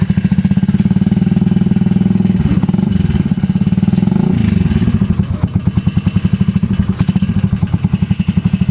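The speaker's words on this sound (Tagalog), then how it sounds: "So ganyan naman yung tunog niya kapag may silencer." An inline-four motorcycle engine with an aftermarket pipe and silencer idles with a steady, throbbing putter, then blips its throttle a couple of times, close and fairly loud but muffled.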